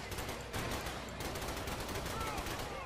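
Rapid, sustained gunfire from several weapons pouring into a Sectopod during a fight in The Bureau: XCOM Declassified, a dense rattling barrage held at a fairly quiet, steady level throughout.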